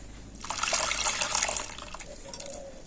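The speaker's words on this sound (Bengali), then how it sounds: "এই গামলিটা ভর্তি ভর্তি করে আমি জল দিয়ে দিয়েছি" Water runs and splashes into a bowl holding grated raw potato paste for homemade cornflour, a steady pouring rush lasting about a second before easing into faint trickling.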